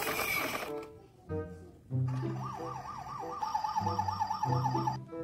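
A white toy ambulance plays its electronic siren, a rising and falling wail that repeats over a steady beeping pattern and runs for several seconds close by, with no talking over it.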